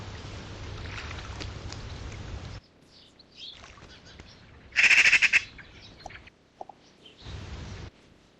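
A bird of prey, probably a red kite or buzzard, gives a short, loud, shrill call at a UK smallholding, standing out over faint background noise between quieter stretches and a few softer bursts.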